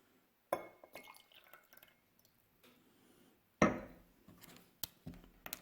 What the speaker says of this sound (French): On vide le verre témoin pour pouvoir le remplir avec le liquide du verre noir.